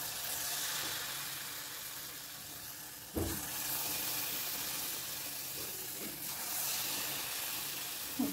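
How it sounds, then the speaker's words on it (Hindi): Taaler bora batter balls sizzle and hiss steadily in hot oil in a kadai, with a continuous close frying crackle and a couple of brief stirring clatters. "देखिए मैं कढ़ाई में सब डाल दिया, अभी फ्राई हो रहा है।"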